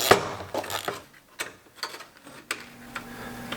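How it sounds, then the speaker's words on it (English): A ratchet with a 9mm socket turning a rear bumper bolt on a Chevrolet Silverado pickup, a close series of quick clicking pawl bursts with short pauses between strokes, no voices. "We're using a 9mm socket to get that in there."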